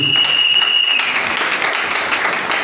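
A church congregation applauds together in a dense burst of clapping that fades toward the end, with a steady high tone over the first second.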